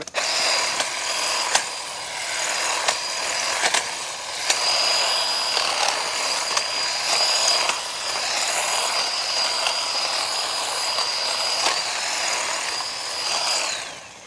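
Battery-powered DeWalt tool running during homestead cleanup, a loud whirring motor drone with a high whine, steady for most of the stretch, broken by short clicks and dips, winding down at the end.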